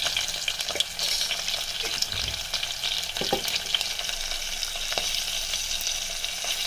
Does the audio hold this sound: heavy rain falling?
no